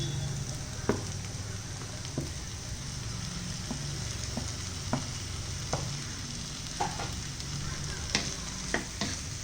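Tomatoes, onion and potato for an aloo pyaz sabzi fry and sizzle steadily in a pan while being stirred, with soft scraping clicks of the utensil at irregular intervals.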